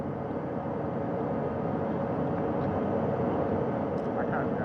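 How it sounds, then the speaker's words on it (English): Steady, heavy rotor and engine roar of a helicopter hovering 40 feet above a recovery ship's deck at sea, continuous and loud with no pauses, wind noise mixed in. "Helicopter 1 again hovering 40 feet over the front porch."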